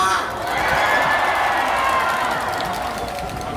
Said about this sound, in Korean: 여기 모여주신 모든 분들께 함성과 박수 부탁드립니다